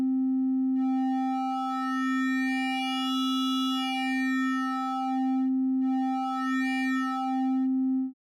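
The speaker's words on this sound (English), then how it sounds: "If I select, say, a sine wave here," A steady synthesizer tone from Ableton's Drift synth, a sine wave with wave folding, with a bright, shifting buzzy overtone sweep that swells and fades, held alone for several seconds.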